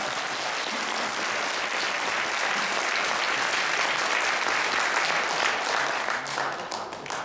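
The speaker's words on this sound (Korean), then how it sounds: "박수를 치려면 확실하게 치죠" A large audience at a national prayer breakfast lecture in Walkerhill Hall gives steady, dense applause that holds evenly for several seconds before thinning slightly at the end.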